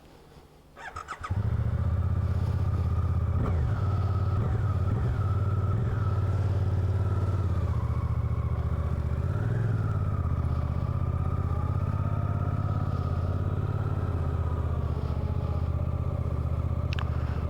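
A Suzuki GSX-8R motorcycle starts up from quiet and then rides with a loud, steady engine drone heard up close, rising and falling slightly in pitch as the throttle changes.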